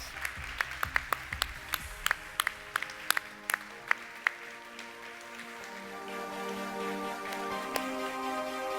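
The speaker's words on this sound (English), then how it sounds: "Big round of applause." Scattered claps from a competition storytelling audience, sharp and separate at first, then thinning into a soft, faint wash of applause.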